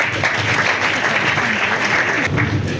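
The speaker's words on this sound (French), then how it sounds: "Encore une fois, applaudissez-moi." Audience applause at a ceremony in Kinshasa, a steady wash of clapping from a crowd that holds for about three seconds at a constant level with no voices above it.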